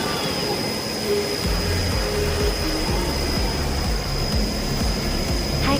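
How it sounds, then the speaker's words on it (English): A robot sand belt polishing machine runs in an industrial setting, with a steady mechanical drone and a thin high whine. Irregular low rumbles and knocks sit underneath, and the whole sound stays loud and continuous. "Today, I will introduce the robot polishing equipment to you."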